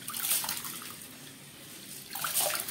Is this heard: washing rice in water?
yes